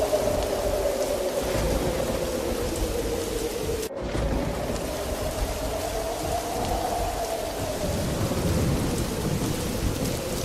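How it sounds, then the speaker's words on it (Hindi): Heavy rain pours steadily while deep thunder rumbles and rolls through, loud and close, with a sharp crack partway through and no voices. "आसमान में बिजली के साथ तेज तूफानी बारिश शुरू हो जाती है।"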